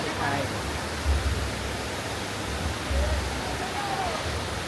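A waterfall near an old hydroelectric plant in the Sapa hills roars as a steady broadband rush, loud and continuous, with a voice speaking briefly over it.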